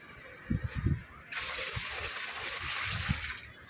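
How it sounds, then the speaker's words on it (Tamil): Water splashes and gushes as it is poured into a small backyard pond, a steady sloshing pour that swells after a moment, with a few low thumps early on and no talking. "இப்போ நம்ம வந்துட்டு தண்ணியை ஊற்றிட்டோம்"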